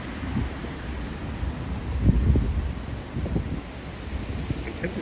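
Gusty wind on a sunny city street in Toronto, a steady low rumble of buffeting with a stronger gust near the middle, no voices.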